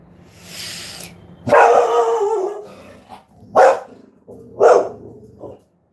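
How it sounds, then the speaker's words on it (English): A pet dog barks and growls indoors in a few loud, close bursts, a long snarling bark followed by two sharper barks and a short yip, with quiet gaps between them. "Sorry, this is my dog."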